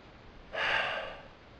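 A single audible breath drawn and let out during rifle marksmanship breath-control practice, close and fairly soft, rising quickly and fading over about a second against quiet background.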